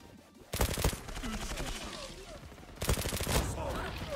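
Gunfire in the Zula online shooter, two dense bursts of rapid automatic shots, loud and close, heard under a voice talking.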